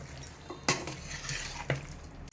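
A spoon stirring yogurt-based chicken biryani marinade with onions in a metal pot, giving a few sharp clinks and knocks against the side over a low background, with no talking.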